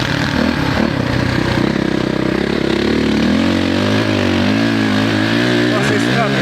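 A 450 motorcycle riding in sand, its engine droning and shifting pitch up close as it accelerates, with a rider talking over the engine.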